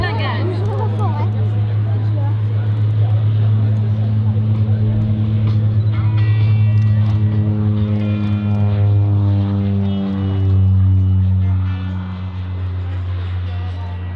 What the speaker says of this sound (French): Mise en puissance, on vérifie les paramètres, les pressions sont bonnes, les températures d'huile sont bonnes, alors on lâche les freins et c'est parti pour un décollage court.